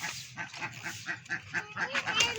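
Ducks quack repeatedly at a small mini zoo on a sunny day, a steady run of nasal calls close by, with the birds honking and chattering over one another in quick succession.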